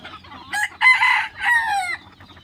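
A rooster crows loudly and close in a couple of drawn-out, cracking calls, with hens clucking around it.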